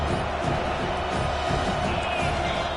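A packed football stadium crowd roars in a steady, dense wall of cheering and noise, loud and continuous throughout without letting up.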